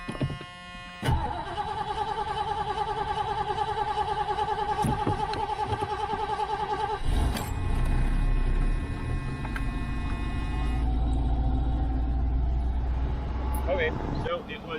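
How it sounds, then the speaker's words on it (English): A 1978 Ford Fairmont Futura cranks after sitting idle for two weeks and settles into a steady, loud idle that fills the whole stretch. Its engine hum runs continuously, with a voice speaking over it at times. "it's still a cold start"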